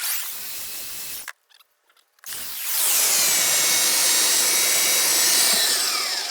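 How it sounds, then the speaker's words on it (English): Sanding a cut wooden edge with a power sander, a brief hiss and whir, a short gap, then a long continuous loud abrasive whine. "Now I just want to sand this cut edge here."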